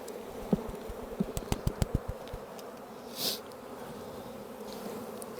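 Honeybees buzz in a steady, dense hum while a hive is being split, punctuated by a quick series of light taps and knocks from handling the boxes early on.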